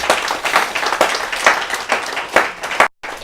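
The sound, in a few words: congregation applauding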